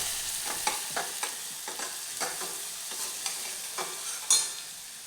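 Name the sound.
ground masala paste frying in oil for kadhi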